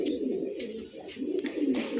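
Pigeons cooing close by, continuous throaty warbling coos layered over one another with small fluttery bursts, fairly loud and without talk.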